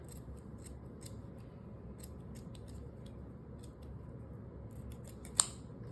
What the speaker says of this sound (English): You take your scissors and you snip it like so.